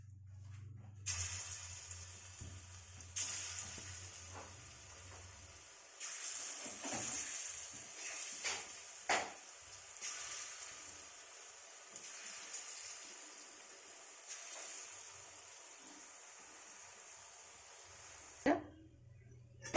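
Moong dal pakoras, made with rice flour, salt, turmeric, chili, cumin and coriander powder, sizzle and crackle steadily in hot frying oil, with occasional stirring clinks and scrapes, up close and without talk.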